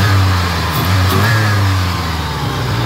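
A Ford 2.3 four-cylinder with an eight-plug head running dual ignition idles steadily while still a little cold, a loud, close, even engine hum with no talk.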